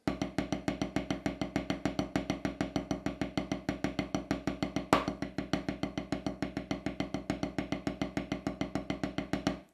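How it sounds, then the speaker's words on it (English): Snare drum rudiment exercise cycling through bars of 16th-note single strokes, double strokes and paradiddles, a fast, even stream of close stick hits at a steady moderate level, played alone without talking. "So you cycle through a bar of 16th note single strokes,"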